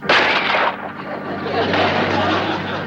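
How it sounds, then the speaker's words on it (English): A gunshot from an old 1960s TV comedy, a pistol firing a silver bullet at a vampire, loud and close, with a sharp burst followed by a sustained rumbling blast over background music. "Igor has a silver bullet. Shoot, Igor! Shoot"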